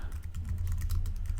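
Fast, continuous typing on a computer keyboard during a livestream, steady close-up clicking with a low room hum underneath and no voices.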